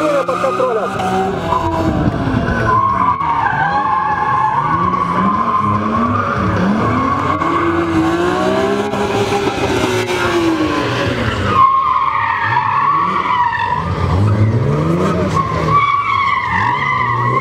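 A small, powerful car slides with its rear end drifting during a speed-maneuvering competition stage of the Artmotion Cup in Mogilev: continuous tire squeal and skidding over a revving engine, loud and near, with commentary running underneath.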